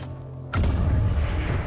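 A grenade explosion in the video game XCOM 2: a sudden heavy blast bursts out after a moment of quiet, then a dense rumbling tail lingers under crackling debris.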